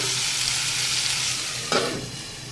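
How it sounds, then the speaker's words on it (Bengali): Bottle gourd stems, potato and pointed gourd frying in a pan give off a dense, steady sizzle close by, broken once by a brief louder scrape of stirring. "এখানে আছে লাউয়ের ডাঁটা, আলু আর পটল। এটাকে আমি এবার বেশ ভালো করে ভেজে নেব।"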